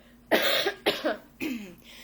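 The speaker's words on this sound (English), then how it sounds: "I'm just going to clear my throat" Three short, harsh throat-clearing bursts, close to the microphone, separated by brief pauses; no speech.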